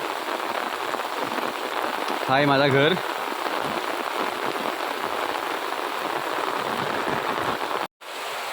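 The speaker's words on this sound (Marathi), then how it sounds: "पाऊस चालला जोरात" Heavy monsoon rain pours down steadily in a dense, loud hiss in the Konkan region, with someone speaking briefly over it partway through.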